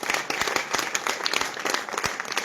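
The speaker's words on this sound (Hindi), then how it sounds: "तालियां कमजोर हैं आपकी।" An audience claps at a Hindi poetry gathering, an all-India kavi sammelan in Sironj. The applause is moderate and fairly close, with distinct individual claps standing out from the steady crowd clapping.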